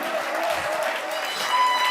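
A church congregation applauding as an offering of praise during a sermon: dense, continuous clapping from a crowd, fairly loud and steady for the whole moment.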